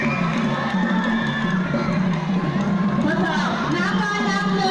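Crowd cheering and shouting at a futsal final between the orange and blue teams, a dense continuous roar of many voices with rising excited yells and chatter throughout.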